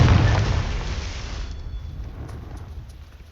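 A Confringo fire spell in Hogwarts Legacy bursts with a loud, deep boom at the start, then rumbles and fades over a few seconds.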